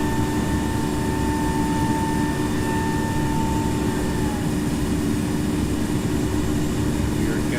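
A Challenger 350 business jet in the Infinite Flight game taking off and climbing, a steady loud engine roar with a constant drone and faint high whine throughout.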